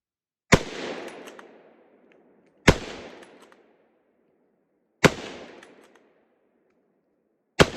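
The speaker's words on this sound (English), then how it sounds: "let's stop rambling and put another mag through it" Model 1917 American Enfield rifle fired outdoors, four loud single shots spaced about two seconds apart, each a sharp crack followed by a rolling echo that fades before the next.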